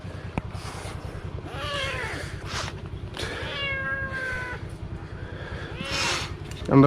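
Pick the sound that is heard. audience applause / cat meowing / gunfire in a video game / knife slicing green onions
cat meowing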